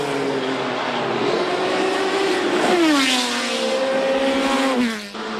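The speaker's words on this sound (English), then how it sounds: "A 170 miles per hour along Brabham Straight highlights just how fast these sports prototypes were" A Group C/GTP sports prototype race car screaming past at around 170 mph along the straight at Brabham Straight, Brands Hatch, its high engine note rising, then falling in pitch as it passes close by and fades.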